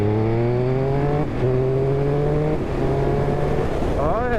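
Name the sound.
2023 Triumph Speed Triple RS motorcycle engine accelerating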